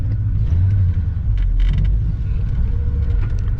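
A massive 4WD rolls slowly up a driveway, with a steady low engine rumble and creaking, clunking suspension, close and continuous with no talking.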